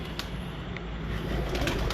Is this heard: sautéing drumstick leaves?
no